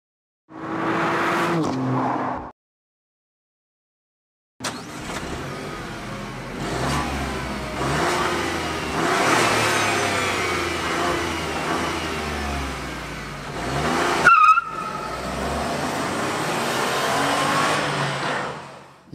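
A 2018 Renault Captur with the 90 hp TCe turbo petrol engine drives along, its engine note rising and falling through acceleration after a brief burst and a short silence, with steady road and cabin noise throughout.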